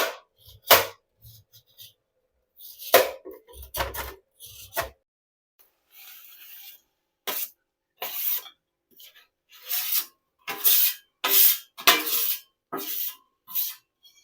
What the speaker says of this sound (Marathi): त्यामुळे हे बोलले मी चिरून देतो गुळ.